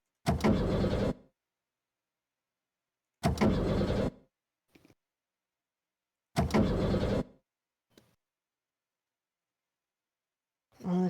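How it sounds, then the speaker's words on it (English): A car engine in the video game Virtue's Last Reward cranks and fails to start, three separate harsh metallic grinding bursts of about a second each with long silences between them, then a fourth beginning at the end. "On the 5th try, the engine made an odd creaking noise like metal on metal and fell silent."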